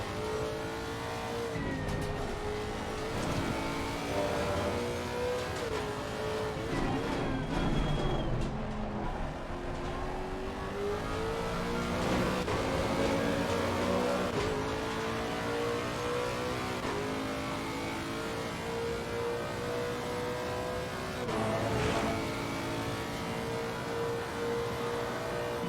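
Lexus race car engine in Assetto Corsa Competizione at Kyalami, droning steadily and loud with rising and falling revs through gear changes, alone without talk.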